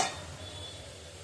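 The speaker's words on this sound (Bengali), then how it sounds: "এবার আলুগুলো ভাজা হয়ে গেছে আলুগুলো তুলে নিব" Potatoes frying in oil, a low continuous sizzle heard up close after a brief clink at the start, with no talking.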